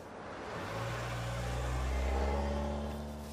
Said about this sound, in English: I think I hear Shackleford's car.